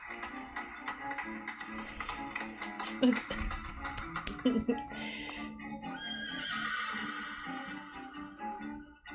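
A horse neighs in a drama episode, with whinnying bursts over background music and ambient sound, fairly close but partly masked by the mix.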